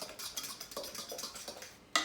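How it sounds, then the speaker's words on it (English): A utensil clinks and scrapes against a bowl while eggs are stirred into mashed bananas for muffin batter, making a quick, irregular rhythm of close, light taps that ends in a sharper knock. "going to stir in the eggs."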